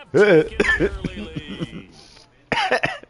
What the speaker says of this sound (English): hit the weed and start coughing crazy